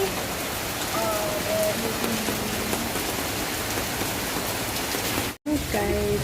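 Steady rain falls in a dense, continuous hiss outdoors, with faint tones and a brief dropout near the end.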